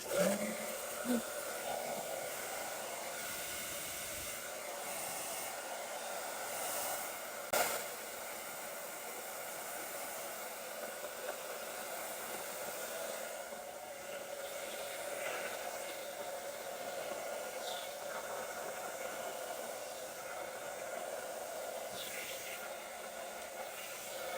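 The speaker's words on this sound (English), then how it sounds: "got my blow dryer" A steady broadband whoosh of a hair blow dryer styling a wig runs continuously throughout, fairly even in level, with a couple of brief bumps near the start.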